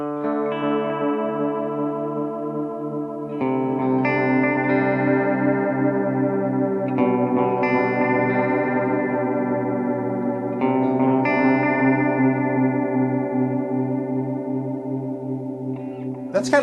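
Xvive V21 Echoman analog delay pedal with heavy modulation on a chorded instrument, each strum followed by wobbling, chorus-like repeats that smear into a continuous shimmering wash of sustained notes.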